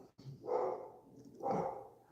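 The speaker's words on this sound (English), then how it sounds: "my dog starts barking partway through our video" A dog barks twice indoors, two spaced, moderately loud barks with a brief pause between them in an otherwise quiet room.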